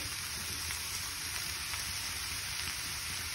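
Steady sizzle of grated coconut being stirred into frying pumpkin bassaru masala in a pan over medium flame, a continuous close crackle with no talk.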